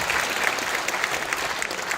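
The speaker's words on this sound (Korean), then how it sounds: "우리 한번 박수를 다시 한번." A congregation claps at an Easter joint worship service in a church, a brief, even burst of applause from many hands at moderate distance, with no talking over it.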